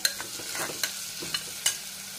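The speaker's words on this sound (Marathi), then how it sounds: "कांदा लाल असतोपर्यंत त्याला चांगलं परतून घ्यायचं आहे।" Chopped onion sizzles steadily in a pan, with a few sharp scraping strokes of a spatula stirring it, the frying hiss close and constant beneath the clicks.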